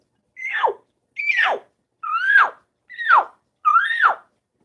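A voice imitates a typical elk call: five separate rising-and-falling squealing whistles, each about half a second long, evenly spaced and close, with silence between them.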